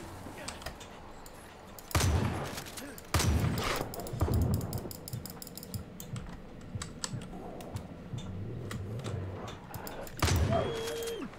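A few loud, sharp gunshot bursts ring out amid the battle sounds of the video game Far Cry 5, near and separated by quieter stretches of ambient game noise.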